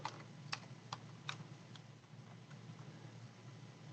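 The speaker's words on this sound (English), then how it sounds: "You'll type in their email address" A handful of soft clicks from a computer keyboard as an email address is entered, faint and sparse, mostly in the first second and a half over a low background hum.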